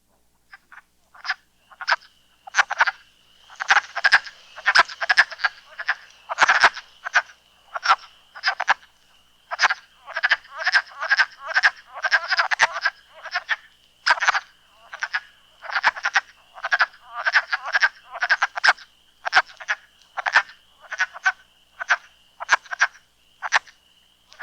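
Male frogs call in a vernal pond during the spring thaw, a dense chorus of rapid, repeated croaking bursts that pulse steadily for the whole stretch, close and loud, with no voices.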